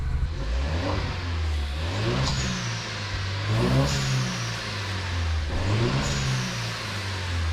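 A Mini car engine revs up repeatedly in a steady cycle, pitch rising and falling about every one and a half seconds, close and fairly loud, its oil pressure dropping to zero.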